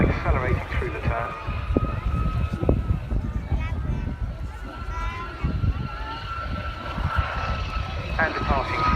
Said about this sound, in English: Hear the aircraft whistling away as he's just putting a little bit of power, accelerating through the turn